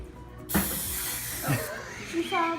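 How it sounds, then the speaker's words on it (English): An aerosol can of cooking spray sprays in a long continuous hiss, close up, with brief voices talking over it near the end. "spray this in here Around the edges and in the middle."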